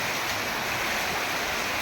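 Heavy rain pounds clay roof tiles in a village house, a steady, dense roar of drumming water that holds at constant loudness throughout, with no voices.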